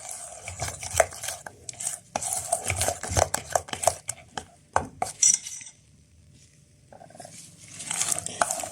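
Homemade face cream with a drop of vitamin E oil is stirred in a container, making close irregular scraping and tapping clicks with short pauses, and a quiet stretch near the end.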